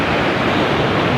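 Steady, loud roar of breaking ocean surf, a continuous broadband wash of water with a faint windy edge and no voices, heard up close for just over a second.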